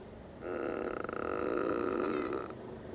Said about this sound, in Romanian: Deci acum pot să fac mașina mea să pârție din telefon.